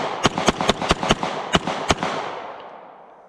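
A Walther P99 pistol fired at a shooting range, seven sharp reports in an uneven rhythm with a longer pause before the last two, each shot ringing out into a fading reverberant tail.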